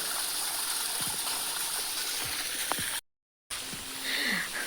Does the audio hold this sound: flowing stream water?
yes